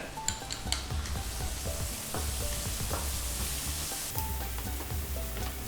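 Onions and a few chilies fry in mustard oil in a pan, a steady close sizzle with scraping stirs and occasional clinks of utensil on metal, no talking.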